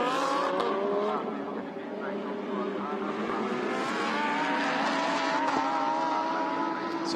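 Lamborghini Super Trofeo race car, GDL Racing's number 47 entry at Fuji, slipping and sliding on track, a loud sustained engine roar with a tyre squeal mixed in, under race commentary.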